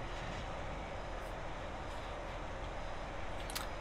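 A train in Train Simulator 2018 on the Carlisle to Glasgow line rumbles steadily round a corner, a constant broad roar with a brief faint high squeal near the end.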